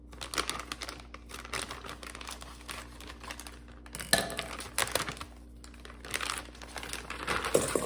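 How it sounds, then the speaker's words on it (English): A plastic bag of shrimp is cut open and handled up close, with a steady run of crinkling and tearing plastic rustles and a few sharper crackles. "So the first thing I'm going to do is just cut open the bag."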